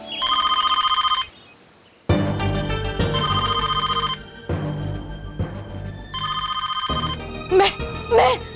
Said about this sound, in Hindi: मेहर का फोन होगा, मेहर का फोन होगा।